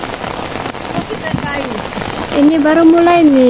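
Steady rain falls during flood season, a broad even patter under a man's short spoken remark, with a louder tonal sound rising near the end.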